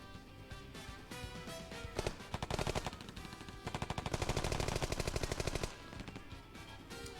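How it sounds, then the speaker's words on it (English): Rapid bursts of automatic gunfire in a corridor in the visual novel game Piofiore: Fated Memories rattle in dense volleys, loud and sustained, with an intense busy mix behind them. "gunfire filled the corridor ahead"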